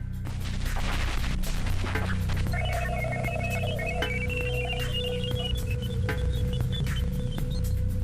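Radio emissions from the planet Jupiter come through as dense crackling static, with sustained whistling tones that rise and fall and a sharp burst of clicks near the start. The noise stays loud and steady throughout.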